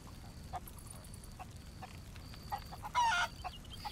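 Chickens cluck intermittently against a low hum in the video game Sea of Thieves, with a brief louder squawk near the end; the birds sound close and somewhat synthetic.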